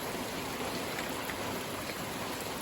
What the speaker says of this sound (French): Ça devient du délire toute cette pluie.